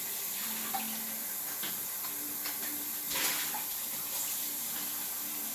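Tap water runs steadily into a kitchen sink as a bowl and spoon are rinsed by hand without soap, a continuous close splashing stream with a brief louder gush near the end.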